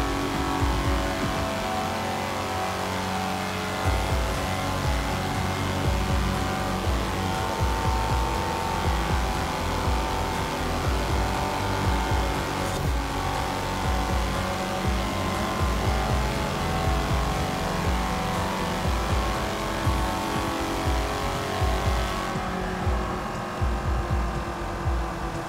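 A 1965 Peel Trident in Forza Horizon 4 drives steadily throughout, its small engine droning and buzzing loudly, with a slight rise in revs partway and a brief tire-squeal accent, no voices over it.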